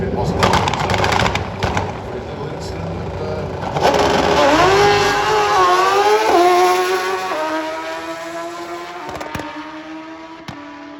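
Drag racing motorbike at Santa Pod Raceway's Greenlight Nationals, its engine screaming at high revs during a wheelie run, pitch sweeping up through gear changes then fading into the distance, with a commentator talking over it throughout.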